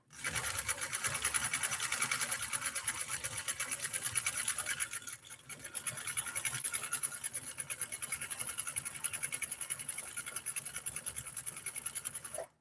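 A Nordic Husqvarna Automatic sewing machine stitches in a fast, even rattling run, pausing briefly midway before resuming its steady whirring clatter, close and alone.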